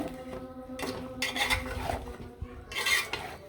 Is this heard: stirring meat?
yes